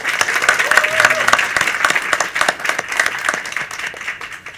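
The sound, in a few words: audience applause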